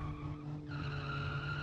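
A video game car's tires lock up and squeal under hard braking into a hairpin turn, a sustained skidding screech over a steady engine drone.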